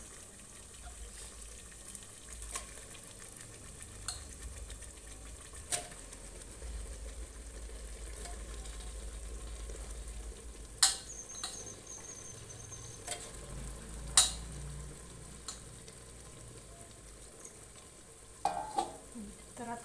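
Washed vajdi stirred into masala frying in oil, a quiet sizzle running under intermittent clinks and scrapes of a spoon against the pan, with a few sharper knocks near the end and no talking.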